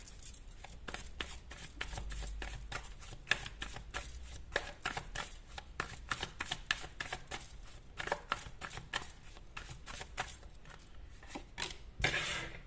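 Tarot cards shuffled and drawn by hand, a steady run of dense crisp riffling flicks and slaps for most of the stretch, close and fairly soft, ending in a brief louder burst of card noise.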